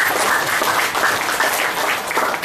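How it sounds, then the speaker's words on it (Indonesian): An audience at a student creativity program session claps for the guest speaker, giving dense, sustained applause from many hands at steady loudness with no break. "Kita kasih aplaus dulu untuk narasumber"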